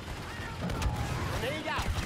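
Blaster gunfire and battle effects from a Star Wars Battlefront 2 Galactic Assault multiplayer match, with continuous layered shots and sci-fi sweeps at steady loudness over a dense combat background.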